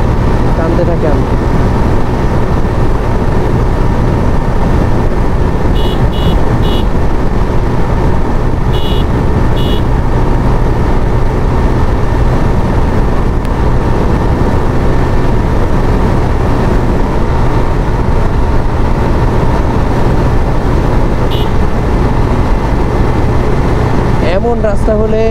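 A vehicle cruising at 100 km/h on a road in Bangladesh, a constant loud engine and road drone inside the cabin, with a voice talking over it.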